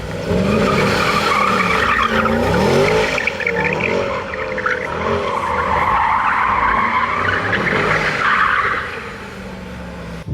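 Loud, sustained tire squeal from a Mercedes-AMG GT 63 S drifting, wavering in pitch over its 4-liter V8's drone for about nine seconds before easing off.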